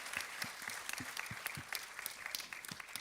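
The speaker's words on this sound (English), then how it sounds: "A loud round of applause for these beautiful teachers." Quiet applause from an audience honouring teachers at a school event for Grade I learners, with individual hand claps distinctly audible in an uneven rhythm throughout.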